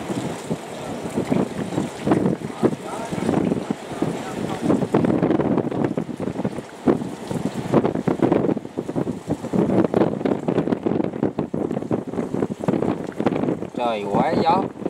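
Strong wind buffets the microphone at a boatyard where a fishing trawler sits hauled up on the slipway, a steady loud roar and rumble throughout, with someone talking over it.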